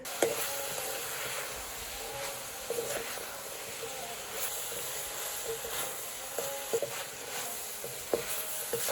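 A spoon stirs curry in a pot over a faint background hiss of cooking, with soft scrapes and a few sharper clicks against the pot, quiet and close.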